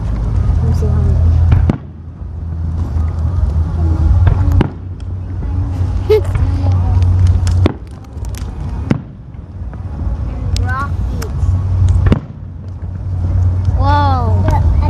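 Fireworks display at the Idaho Center in 2014, with loud booming bursts every few seconds over steady crowd noise and nearby voices, plus whistling rockets rising toward the end.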